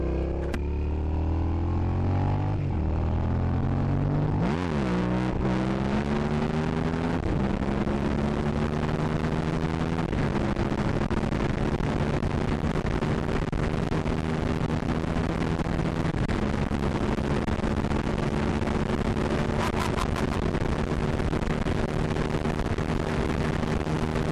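Suzuki SV650 motorcycle accelerating onto a highway, its engine loud and close, pitch climbing through gear changes and then settling into a steady cruising drone with heavy wind roar.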